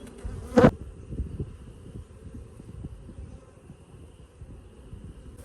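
Honeybees hum steadily around an open hive during an early spring inspection, a low continuous drone with a brief louder burst near the start, close to the microphone and without talk.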